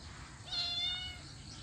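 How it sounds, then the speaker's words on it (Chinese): A tiny kitten gives a single thin, high meow while a neighbour's dog plays roughly with it, the cry rising briefly and clearly over a quiet background. "隔壁的狗子又在逗小奶猫玩"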